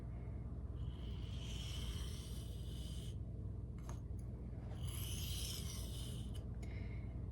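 SPK Shark knife with an Elmax steel blade being sharpened, two long rasping strokes across a stone with a short gap between them, close but soft, no voices.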